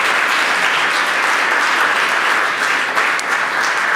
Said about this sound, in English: So one more round of applause for the wider community.